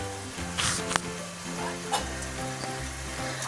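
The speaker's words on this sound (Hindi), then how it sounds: "इसको आप घी में भी फ्राई कर सकते हैं और ऑयल में भी बना सकते हैं।" Paratha frying in a generous amount of ghee gives a steady close sizzle throughout, with a few soft clinks and scrapes of a spatula against the pan and no talking.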